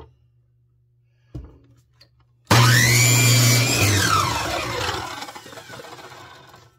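A power tool cuts through a wooden block for a small toy pickup truck, starting abruptly with a loud, steady whine and falling pitch sweeps, then gradually easing, preceded by a few faint knocks.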